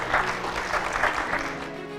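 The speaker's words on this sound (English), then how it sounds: "Please give a round of applause to our excellent panelists here." An audience at a panel discussion on religion and the founding applauds its panelists, a steady wash of clapping that stays close and fairly loud for two seconds, thinning slightly toward the end.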